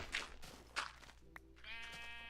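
Sheep bleat in the Minecraft video game: two short nasal bleats, then a longer wavering one at the end, close and fairly quiet over soft footsteps.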